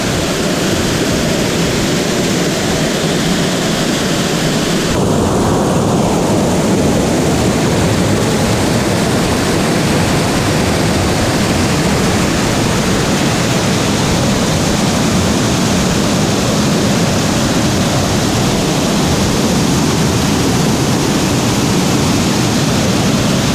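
A waterfall in Thailand roars as a loud, constant wash of rushing water, steady and close for over twenty seconds with no voices.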